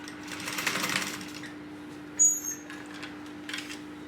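A sewing machine top stitches along the edge of a tote panel at a light, even hum, with a faint steady tone beneath and a couple of brief clicks and taps partway through.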